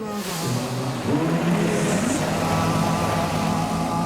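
Vehicles sit in gridlock among long-haul trucks at a border crossing, with a loud, steady engine drone and a few rising revs layered over constant road rumble.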